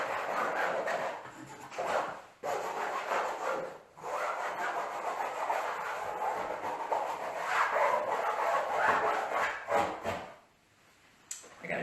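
A colored pencil is sharpened in several close, grinding bursts, loud and rasping, with short pauses between turns.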